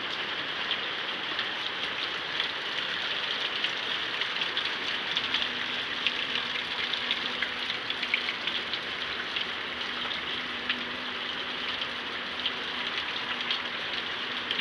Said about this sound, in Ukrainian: І ось на вечір пішов дощик.